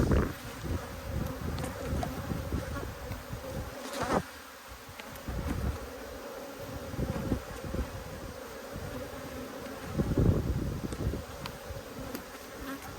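Honey bees buzz in a dense, agitated drone at an opened backyard hive during an inspection, with occasional louder passes as individual bees fly close by.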